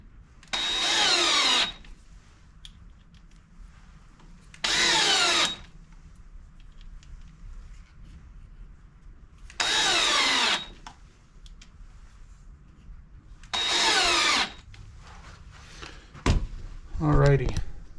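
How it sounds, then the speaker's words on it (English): Power drill drives screws to attach a lathe faceplate to a maple burl bowl blank, four distinct whirring bursts of a second or two each, spaced apart, close and loud, with quieter handling noises between them. "as you can see, I'm using screws to attach this faceplate."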